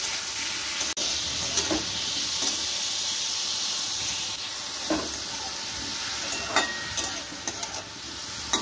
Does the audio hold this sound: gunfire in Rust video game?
no